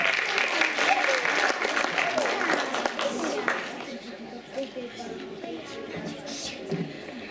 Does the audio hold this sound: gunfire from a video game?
no